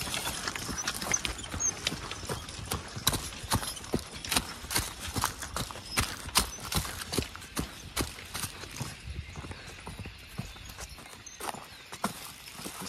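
Draft horses plowing spring furrows, their hooves clip-clopping in a steady, close walking rhythm over a constant field background, with no talk.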